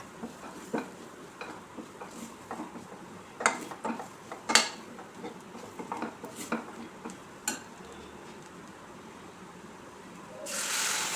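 A metal spoon clinks and scrapes against a pan of chicken curry over a low sizzle, and near the end a short rush marks coconut milk being poured in.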